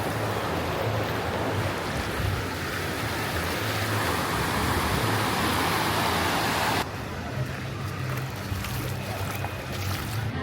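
Continuous rushing surf from the wave pool at Disney's Typhoon Lagoon water park, loud churning water with wind noise and a low steady rumble, the wash shifting in tone partway through.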